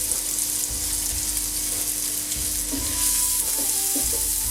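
Steady sizzling and crackling of finely chopped onion frying in hot oil, close up, with occasional light stirring clinks and no talking.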